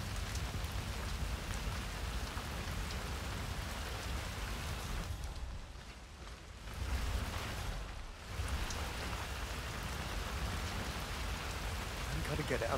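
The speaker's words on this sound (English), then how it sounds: "I'm never going out in the rain again." Steady rain pouring in the Chongqing level of Hitman 3, a dense hiss of drops on surfaces that briefly dips then returns, with faint speech-like sounds in the mix.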